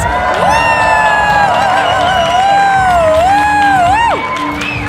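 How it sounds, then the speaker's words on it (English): Crowd cheering loudly at a bouldering competition finals evening, sustained shouts, whoops and high-pitched screams from many people, close and continuous for several seconds before easing slightly near the end. "Can I get a huge big cheer, please?"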